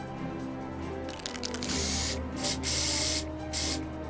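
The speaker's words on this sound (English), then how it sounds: "Are we spray painting it?" Spray painting in the video game Final Fantasy XIV, several hissing bursts of aerosol spray in quick succession over a soft game background.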